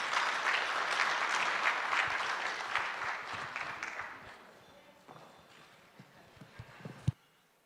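A gala audience applauds as a university president is welcomed on stage, a full round of clapping that swells at first, then thins out and fades, ending with a few scattered claps and a sharp knock.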